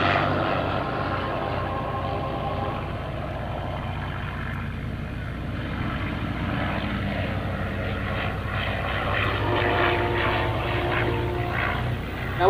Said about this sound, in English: Now this is a liquid cooled aircraft engine.